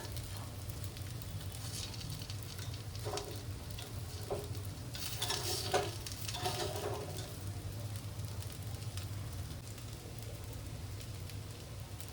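Masala paddu sizzling in a hot pan while being turned over, a soft continuous frying crackle with a few scraping clatters midway, heard faint and close.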